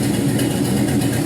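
A 6.0L LS V8 engine idles steadily at about 650 rpm, a loud, continuous low rumble with an even, unbroken tone and no voices.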